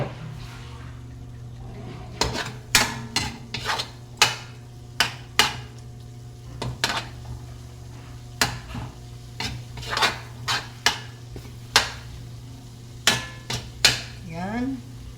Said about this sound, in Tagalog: Haluin muna natin guys ang ating tomato paste.